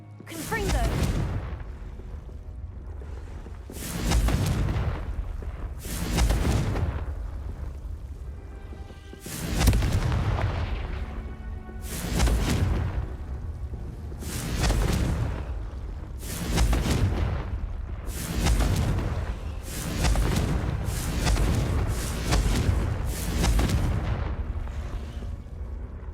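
Repeated Confringo fire-spell blasts in Hogwarts Legacy, a series of heavy booming explosions roughly every two seconds, each with a sharp onset and rumbling decay, loud and close, with talk at times among them.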